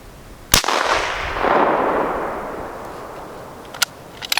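A rifle fires one sharp, loud shot outdoors, followed by a long rolling echo that fades over several seconds, with faint clicks afterward.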